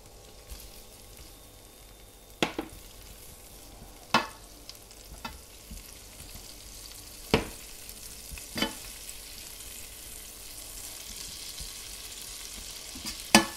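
Onion, garlic and ginger fry in browning butter in a cast iron pan, a steady close sizzle with a handful of sharp utensil clicks and taps scattered through, no voices.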